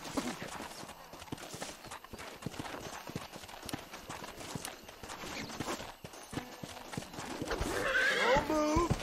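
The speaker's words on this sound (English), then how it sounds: "This steed looks right tetchy, I don't mind telling." A wild horse in the video game Red Dead Redemption clip-clops restlessly and lets out a loud whinny near the end, with hoofbeats and game ambience throughout.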